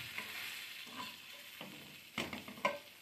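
Bangda (mackerel) fish fries in a little oil in a pan, a quiet steady sizzle broken by a few louder spits and scraping stirs near the end.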